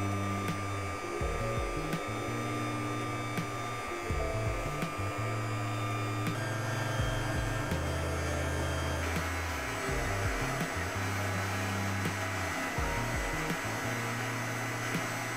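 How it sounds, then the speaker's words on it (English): An electric mixer whisks chocolate Swiss meringue buttercream on low, making a steady motor whir with a shifting, uneven drone and no voices. "So you want to add the chocolate slowly while whisking"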